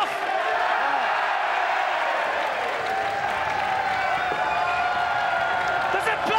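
A large crowd roars, applauds and cheers steadily throughout at a pool match, with a commentator's voice audible beneath the sustained, loud wall of noise.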